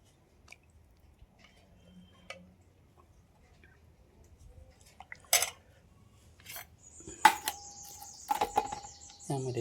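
Potato curry cooked on a wood-fired chulha being served onto a plate: sparse soft scrapes and taps at first, then a few sharp metallic clinks and ringing dish knocks close by in a quiet kitchen.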